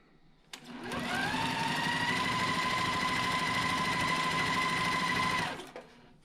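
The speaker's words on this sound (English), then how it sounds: "then we're going to stitch on that line" A sewing machine runs steadily for about five seconds, stitching a diagonal line across quilt squares on a green square block. The motor hum is close and even from start to stop, with no talking.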